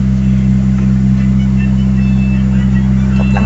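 A car engine runs steadily at about 2000 RPM with the AC idle-up engaged, a loud, even drone with a constant low hum and no clear rise or fall.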